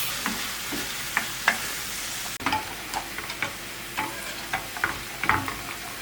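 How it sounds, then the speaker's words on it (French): Apples cooking in a pan with butter and sugar to caramelize, a steady close sizzle with frequent light clicks and scrapes of a utensil, with no voices. "Et je mets à cuire aussi mes pommes. Je veux les caraméliser."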